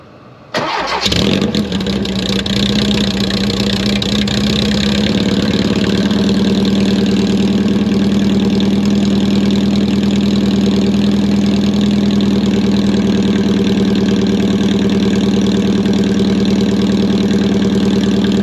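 A Porsche 914 with a custom megaphone exhaust cranks briefly, fires, and settles into a loud, steady, close idle with a droning rumble that runs for the rest of the clip.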